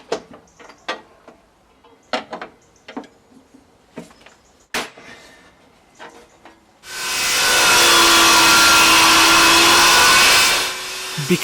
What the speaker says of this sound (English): Because my table saw won't cut the full 4-inch, I use the flip method to rip the timber in half.